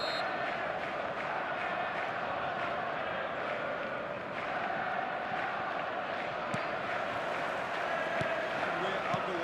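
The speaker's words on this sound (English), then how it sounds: "stadium is full of noise and energy" Dense stadium crowd roar in the football video game eFootball 2026, a steady, broad wash of many voices that never lets up, distant and even, with a few faint claps poking through.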